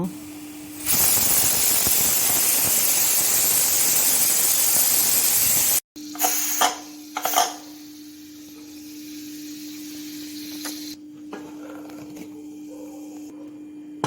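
A pressure cooker cooking greens with tomato and salt lets out a loud, steady hiss of escaping steam for about five seconds, then cuts off, followed by a few quieter bursts and a faint lingering whistle tone.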